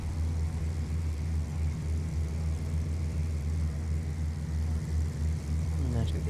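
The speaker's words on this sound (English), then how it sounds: "and now just get the aircraft onto the ground" Aircraft landing in Flight Simulator X, with a loud, steady low engine drone that holds throughout, brief tonal chirps near the end.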